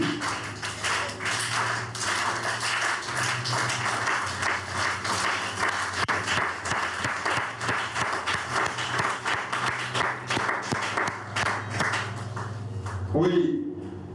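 Church congregation at a French-language worship service applauding, with rapid dense clapping and voices cheering throughout, loud and sustained before cutting off near the end.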